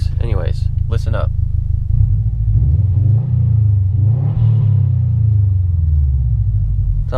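Heard from inside the cabin, a BMW E36 M3 engine gives a loud, deep, continuous rumble that swells slightly as it goes. A brief voice speaks over it near the start.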